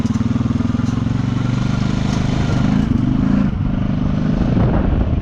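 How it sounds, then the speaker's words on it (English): Four-wheeler ATV engine droning steadily and loudly up close while riding, a continuous low motor rumble with slight rises and dips throughout, running low on gas. "I gotta go to the house before my four-wheeler runs out of gas"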